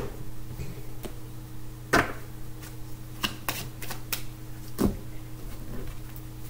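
Tarot cards being shuffled by hand, giving scattered soft riffling clicks and a couple of sharper card snaps against a steady low indoor hum, with no talking.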